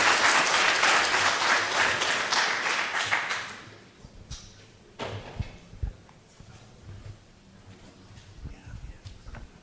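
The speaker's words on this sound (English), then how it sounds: "Big round of applause for all the presenters." Audience applause for the presenters at a fisheries working-group meeting: a dense, steady burst of clapping for about four seconds that quickly tapers off, leaving scattered taps and small room noises.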